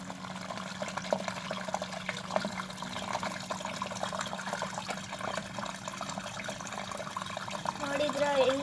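An LG 9 kg washing machine drains its water with a steady rushing, gurgling flow that holds throughout and swells near the end.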